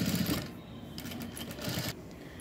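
A sewing machine stitches a garment seam, a fast steady mechanical whirring that runs continuously and close for a couple of seconds.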